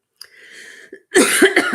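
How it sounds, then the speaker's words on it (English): A person coughs close up, a short throaty cough followed by a harsher burst of two or three rough coughs. "We'll have a coughing break."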